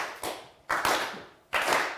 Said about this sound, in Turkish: Üzgün alkışlara doyamadık.